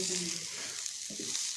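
Spices roast in a pan for a chicken bread filling, giving a soft continuous sizzle with a couple of brief stirring scrapes, close and fairly quiet.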